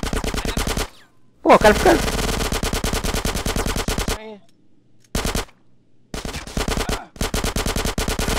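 Rapid automatic gunfire in GTA San Andreas, loud sustained bursts of machine-gun shots broken by short gaps, with a voice talking over the shooting.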